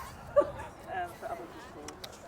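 A dog on a busy seaside path by the sea wall gives a short yip or bark, with a few quieter whimpering sounds around it and people talking close by.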